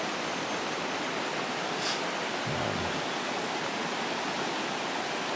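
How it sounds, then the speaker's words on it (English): A river flows close to a campsite at Paris Springs campground, making a continuous, loud rush of water that fills the scene with a steady hiss, with no talking. "Again, the river is pretty close."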